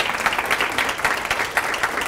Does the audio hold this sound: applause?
yes